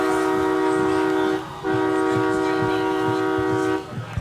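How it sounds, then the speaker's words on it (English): A train horn blares loud and sustained as a train passes near a high school football game, with one brief break in the tone and rumbling crowd and ambient noise underneath. "Hear that train a coming."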